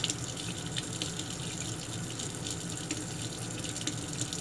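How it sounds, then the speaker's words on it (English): Parts of a Remington 1858 revolver rinsed under running tap water, a continuous close gush splashing over the metal with small irregular spatters throughout. "Give her a little rinse, a little dip in there, rinse her off."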